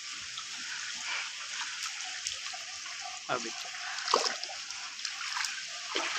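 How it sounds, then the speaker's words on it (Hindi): Rainwater pooled about two feet deep on the roof of a gurdwara langar hall, with a steady wash of splashing and trickling water and a few louder splashes, while someone talks over it. "आ देखो छत पे पानी खड़ गया"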